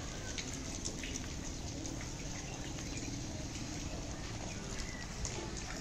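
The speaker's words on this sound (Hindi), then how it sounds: "बारिश का पानी चलना स्टार्ट हो चुका है" Steady rain patters outdoors in a village during the rainy season, with a faint continuous wash of rainwater running beneath scattered droplet taps, low and even throughout.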